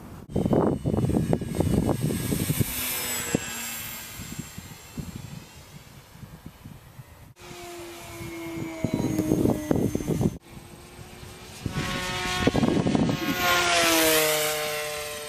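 An E-flite Hawker Hurricane RC model plane flies past outdoors, its electric motor whining with rising and falling pitch as it swoops near and away, loud at moments, over wind buffeting.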